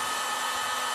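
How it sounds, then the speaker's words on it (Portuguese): Heat blower used to dry cement-based tile adhesive mortar for a faux stone effect, a steady loud airy roar filling the short moment. "Eu tenho um soprador, você pode ter um secador de cabelo e você faz isto."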